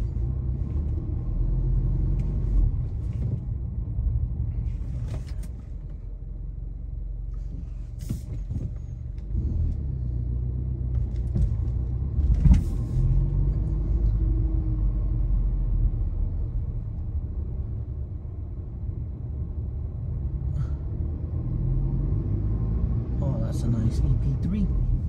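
A car driving through a parking lot with speed bumps in Hawaii, a continuous low road and engine rumble heard from inside, with scattered knocks and clunks and a person talking over it.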